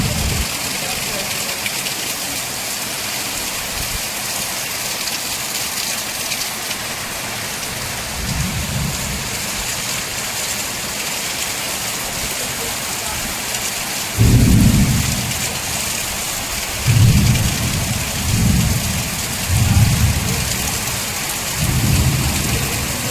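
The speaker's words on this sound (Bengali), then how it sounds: "এত বৃষ্টি হচ্ছে যে কাজের লোক চলে গেছে জানো" Steady heavy rain pours throughout, with low rumbles of thunder rolling in several times, louder bursts toward the end.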